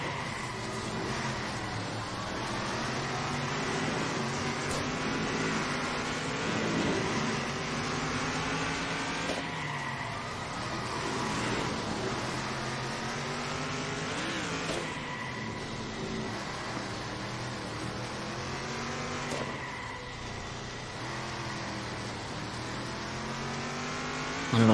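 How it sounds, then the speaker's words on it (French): Stock car engine from the Circuit Superstars racing game, a steady loud droning roar with repeated rising and falling pitch sweeps as the car accelerates and shifts, continuous throughout with no talk. "Vraiment un beau son de moteur là, pour la voiture Impact."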